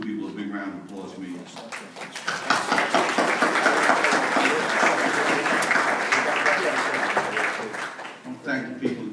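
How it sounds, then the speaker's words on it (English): A board of education meeting audience gives a big round of applause: clapping swells after a brief voice, then holds as a dense, steady roar of many hands for several seconds before fading. "you got to give these two people a big round of applause for me"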